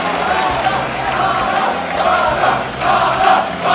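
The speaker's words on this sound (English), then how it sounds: "Crowd cheering on Bala right now." A large crowd roars and cheers steadily at an esports grand final for King of Fighters XIII, a dense wash of voices that swells and dips throughout.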